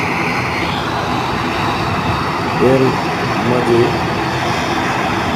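A Bangladesh Airlines airplane takes off, its engines producing a sustained broad roar throughout, while a person speaks briefly over the noise.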